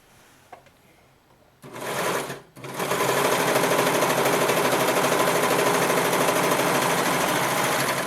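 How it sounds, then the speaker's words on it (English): A serger overlocker sews over the seams of a child's knit boxer briefs, a short buzzing run, a brief pause, then a loud continuous high-speed whir lasting several seconds, up close and alone. "Now I'm going to serge over these seams."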